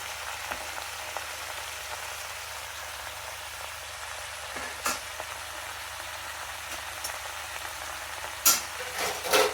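Palakura, a spinach, frying in a pan with a steady, close hiss and sizzle, broken by a few sharp crackles and stirring clatters near the end, with no voices.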